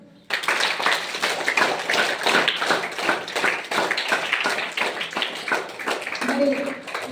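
Group of people clapping together in response to a call, steady dense rhythmic claps from many hands, continuous and fairly close, with a brief voice near the end.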